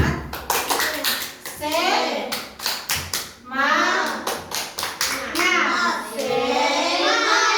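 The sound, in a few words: children doing rhythmic spirit clap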